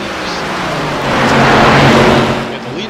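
Race cars in an iRacing ARCA Menards Series race at Texas roar as a loud, continuous engine drone that swells in the middle and fades again as the cars pass, with commentary under it.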